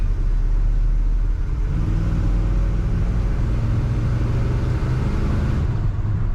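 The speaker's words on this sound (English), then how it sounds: "Nice cornering in this truck." Interior road noise of a 1971 Chevrolet C10 pickup driving, a steady low engine rumble and tire roar that swells slightly as it moves along.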